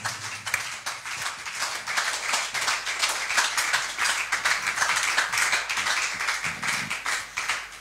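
Congregation clapping in rhythm during a church worship service, steady repeated claps filling the room at a lively, even pace with no talk over them.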